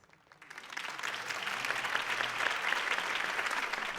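Crowd applause after a campaign speech in the Batman Telltale video game, a steady, sustained wash of clapping that swells in and holds at moderate level.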